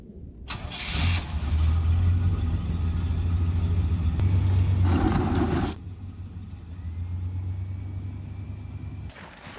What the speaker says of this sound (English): Okay, so the hope is to back up, that we've dug enough under the back and the corner for Tim to be able to back up onto those roc